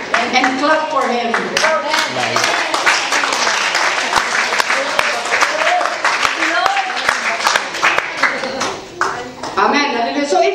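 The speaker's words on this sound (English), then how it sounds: "it's your responsibility to say thank you and clap for him." A church congregation claps throughout, dense and loud and filling the space, with vocal exclamations and singing-like voices mixed in over the steady applause.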